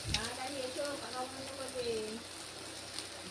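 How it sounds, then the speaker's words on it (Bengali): A steady, soft sizzle rises as a little water hits spice paste frying in oil for a prawn malai curry, heard close and continuous beneath a person speaking. "এই অবস্থায় মশলা পুড়ে যেতে পারে, সেই জন্য আমি সামান্য পরিমাণে জল দিয়ে দেব"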